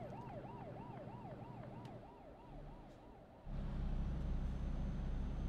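A police car siren in Euro Truck Simulator 2 wails in a rapid up-and-down yelp over the low engine hum of a truck, fading as a heavier rumble of road noise swells in.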